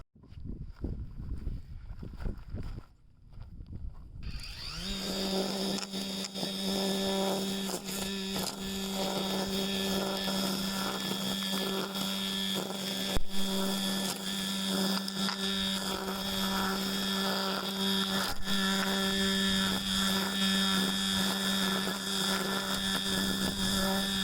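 A Dewalt DCST972 60V cordless string trimmer cuts weeds near a canal, starting after a quiet moment and then running as a loud, steady whine with a strong tonal hum that continues unbroken, close to the listener.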